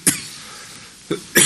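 Coughing during a court trial hearing, three short bursts: a sharp close cough, a brief pause, then two more coughs near the end, fairly loud over a quiet room.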